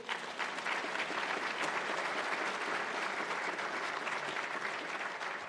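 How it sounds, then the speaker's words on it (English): An audience at the National Academy of Sciences awards ceremony applauds in a steady, continuous round of clapping that stays even and somewhat distant, running for several seconds before easing slightly at the end. "Give my colleagues a round of applause for that, would you?"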